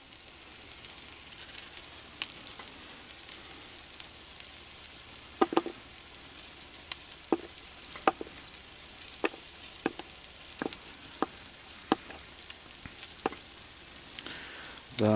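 Steady sizzling of food frying in a full skillet outdoors, with occasional sharp clicks and scrapes over the continuous crackle.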